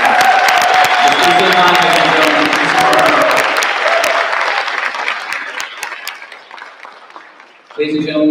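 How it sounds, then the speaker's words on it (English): An audience at an honor music festival concert applauds with cheering, a loud sustained clapping roar that gradually fades, then a voice starts speaking at the end. "Can you give him one more round of applause?"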